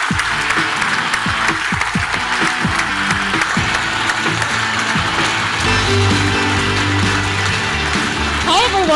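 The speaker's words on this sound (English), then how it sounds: "Please give a huge round of applause." Sustained applause from a large crowd at a Brexit Party rally in Huddersfield, steady dense clapping filling the whole stretch with loud crowd noise and a few voices underneath.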